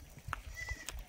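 A baby goat gives a short, faint bleat close by, brief and soft against low background rumble.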